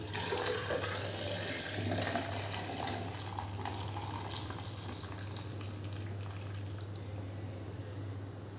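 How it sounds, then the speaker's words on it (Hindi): Beetroot juice pours steadily into a jug filled with ice, a continuous close liquid rush that holds constant throughout, with no voices. "पूरा जग मैंने भर लिया है"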